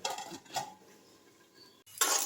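A metal lid clanks down onto a cooking pot of potatoes and drumstick stems, several sharp clinks and a rattle close by, with quiet kitchen sounds between them and no voices.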